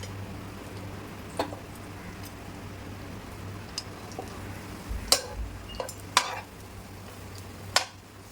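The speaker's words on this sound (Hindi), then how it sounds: "बस आपको इसको अच्छे से सेक लेना है ये घी के अंदर" Paratha frying in ghee in a pan, heard as a soft, steady sizzle under a low hum, with scattered sharp ticks and clinks of utensils against the pan toward the end.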